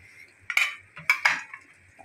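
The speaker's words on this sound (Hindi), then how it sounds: "इसको हम अंडा में डालते हैं" Fish is dipped into beaten egg in a dish, heard as a few sharp clinks and scrapes of utensil against the dish in quiet surroundings.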